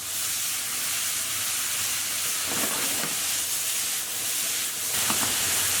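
Broccoli and carrot sizzling in a hot pan for chicken cashew nut noodles, a steady broad hiss with a few soft scraping stirs.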